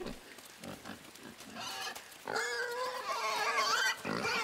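A pig grunting and squealing in the video game Inside, a run of short snorting grunts building to louder drawn-out squeals, close and clear, with no talking.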